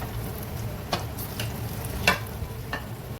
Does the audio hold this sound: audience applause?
no